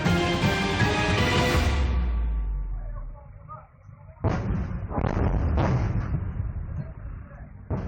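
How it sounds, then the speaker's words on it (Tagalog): Explosions and shelling from border clashes between Thailand and Cambodia, heavy booming blasts, loud and rolling, one long rumble followed by a short lull and then further sharp bursts. "Huwebes nang magsimula ang sunod-sunod na pagsabog sa border ng Thailand at Cambodia"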